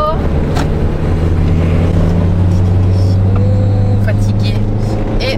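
A van drives along the road with a loud, steady low engine hum and shifting drone. Voices talk over the vehicle noise inside the cab.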